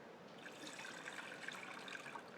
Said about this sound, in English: 2 cups of water into the blender.